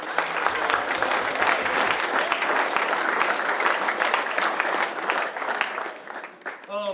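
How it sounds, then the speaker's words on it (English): Audience applause for a family at a high school signing day ceremony: dense, steady clapping from a crowd that fills the room for about six seconds before thinning out. "let's give this great family a round of applause"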